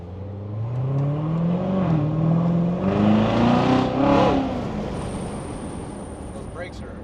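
Toyota Supra 3.0 engine revved against its rev limiter, a rising rumbling drone that climbs, wavers and bounces at the cutoff for several seconds, then drops back to idle, loud and close with no speech.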